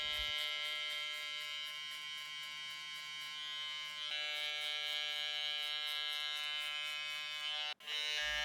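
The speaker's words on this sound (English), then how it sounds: "we're going to come in with our clipper open once again and create another guideline" Electric hair clipper running on a number 1 guard during a mid drop fade haircut, a steady close bright buzz with a brief dropout near the end.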